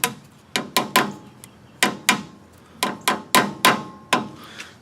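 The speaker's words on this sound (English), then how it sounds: "I'm going to take a little hammer action and just tap it in ever so slightly to get it started." A small hammer taps a new rear axle seal into place on a 2000 Ford Ranger: a dozen sharp metallic strikes in irregular clusters, close and distinct, each with a brief ringing decay and no talking.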